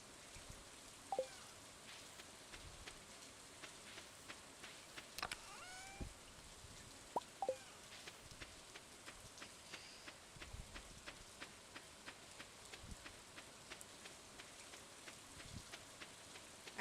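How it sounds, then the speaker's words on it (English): Steady soft rainfall in the farming game Stardew Valley, a faint even patter with scattered light drips and occasional small taps, no voices over it. "I love the rain, especially rain in Stardew Valley."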